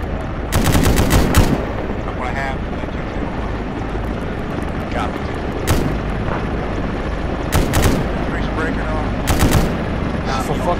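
Helicopter door gunner firing a machine gun in a military video game, sharp rapid bursts repeating at intervals over a constant rotor and engine drone, with radio-style voices talking between the bursts.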